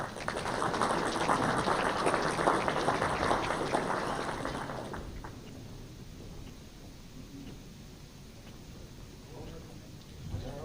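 Applause for racer Robbie Lynch at an awards gathering, a dense burst of clapping for about five seconds that fades out into quiet room murmur.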